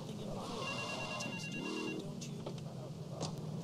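A payphone rings in GTA III, a faint electronic trilling tone heard briefly amid a low game soundscape, with a few sharp clicks scattered through.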